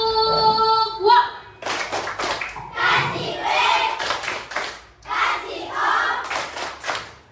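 A group of schoolchildren does the rhythmic 'tepuk wow' clap chant in a coding training class, with sharp bursts of hand claps between loud chanted words.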